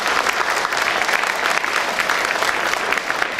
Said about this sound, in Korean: 우리 국회의원들에게 박수 부탁드리겠습니다